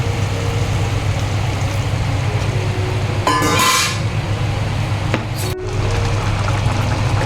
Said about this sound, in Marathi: थोडं पाणी घालायचं आहे यात